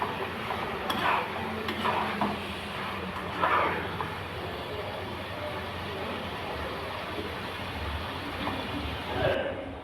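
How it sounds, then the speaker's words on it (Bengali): Fried potatoes stirred into a sizzling masala in a pan for a Bengali fish, potato and pointed gourd curry: a steady close fry with intermittent spoon scrapes and clinks against the pan. "এবার ভেজে রাখা আলুগুলো দিয়ে দেব মশলার মধ্যে। দিয়ে আরও 2 মিনিট একটু কষে নেব।"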